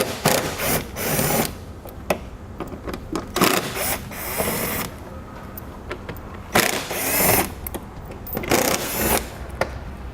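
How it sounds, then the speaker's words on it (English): A power driver with a T20 Torx bit removes Torx screws along the edge under the hood of a 2015 Chevrolet, a series of sharp ratcheting whirs in short close bursts separated by pauses. "we'll start underneath the hood by removing our Torx screws that are here along the edge"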